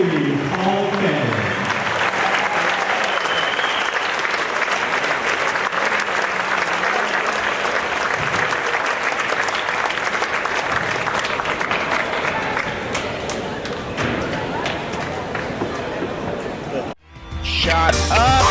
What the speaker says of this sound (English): let's give one more big round of applause and standing ovation to the inaugural class of the Waynesville Athletic and Activity Hall of Fame